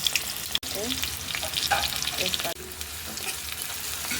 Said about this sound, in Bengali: এখানে আমি পেঁয়াজ দিয়ে দিচ্ছি, একটু ভেজে নেব পেঁয়াজ